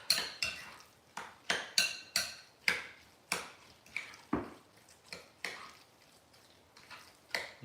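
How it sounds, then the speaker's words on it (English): A big spoon stirs homemade guacamole in a bowl, making a quick series of sharp clinks and scrapes against the bowl at an uneven rhythm, close and fairly quiet, with no talking. "Let's stir. Use the big spoon from the avocado."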